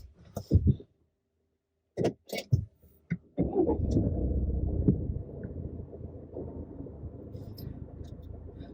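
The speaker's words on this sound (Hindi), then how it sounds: "मैं कार स्टार्ट कर लेता हूँ" A Tata Safari SUV's engine cranks and catches after a few faint clicks and a spoken line, then settles into a steady low idle rumble inside the cabin.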